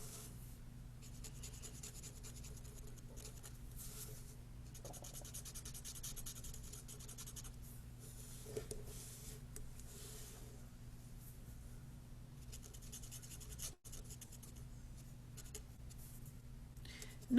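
Graphite pencil and a paper tortillon rub and shade across drawing paper in soft, continuous scratchy strokes, quiet and close, with a steady low room hum underneath.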